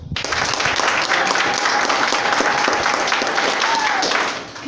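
A church congregation claps for a young preacher, a loud, sustained wave of applause filling the room at close range for several seconds, with crowd voices mixed in.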